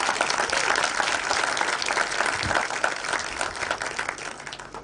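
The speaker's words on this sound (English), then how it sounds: "we love them and applaud them. Could we please do the same for our own Ken Ambani?" An audience at the 6th edition of My Kenya My Story event breaks into applause, a dense, lively crowd clapping that starts strong and gradually tapers over nearly five seconds.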